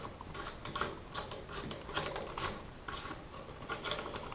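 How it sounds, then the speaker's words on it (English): A castle nut wrench works loose the castle nut on an AR rifle's buffer tube, giving a close, scraping, ratcheting metallic grind in uneven bursts with no talk. "take our castle nut wrench, get that on the back here, loosen your castle nut"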